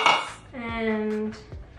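Asian serving bowls clink and clatter as they are handled in a home kitchen, with a few sharp knocks close by and a brief sustained vocal tone between them.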